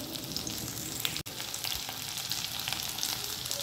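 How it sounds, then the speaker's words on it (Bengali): Vegetables and bitter gourd fry in a pan for Bengali shukto, a steady close crackling sizzle that cuts out for an instant partway through and then carries on, with no talk. "এগুলো একটু লাল লাল করে ভাজবো।"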